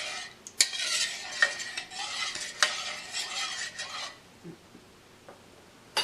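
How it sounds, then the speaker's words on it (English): A spoon stirs garlic powder and salt into a liquid mixture in a bowl, a close, brisk run of scraping and clinking that slows and stops, with no talk. "Stir until well blended."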